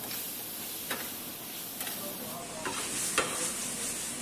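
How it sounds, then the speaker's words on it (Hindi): Chicken chop suey frying in a pan with salt and black pepper, a steady close sizzle broken by a few sharp scrapes and taps of a spoon stirring, with no talking. "तो अच्छा से चलाना है इसको टाइम टाइम में।"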